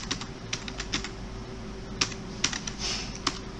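Someone types on a computer keyboard at close range, a run of light, irregular key clicks with a few sharper taps over a quiet background hum.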